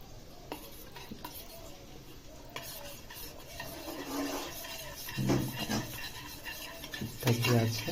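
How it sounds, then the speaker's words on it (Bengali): A spoon stirs a small batch of paste loosened with water for garlic chicken in a home kitchen, giving soft scraping and clinking against the bowl in an irregular rhythm, close and moderately quiet. "এবার চামচ দিয়ে হালকা করে এটাকে একটু গুলে নেবো"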